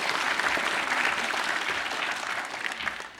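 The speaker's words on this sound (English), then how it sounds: "Give him a massive round of applause." A comic con crowd in Liverpool breaks into applause, a loud close wash of clapping that eases slightly toward the end.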